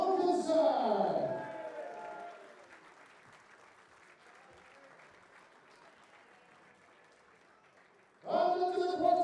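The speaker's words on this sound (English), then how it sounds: "let's welcome master round of applause for Carl Wilkinson" Crowd applause at the 2024 WDF Lakeside World Darts Championship after a match, loud at first, then easing into a steady, softer sustained clapping before a voice cuts back in at the end.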